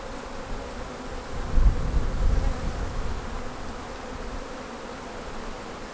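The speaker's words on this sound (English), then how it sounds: "all the foragers that are out and about today will actually come back to this location" Honey bees from a colony rescued out of a hollow tree buzz steadily around a hive box, a dense, continuous drone that swells briefly and then settles.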